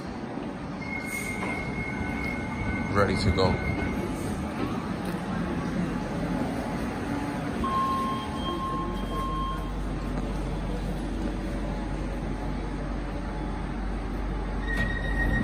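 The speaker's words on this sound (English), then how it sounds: "The train's here." A train arrives at a station, wheels squealing and rumbling steadily with high screeching tones, while a person speaks briefly.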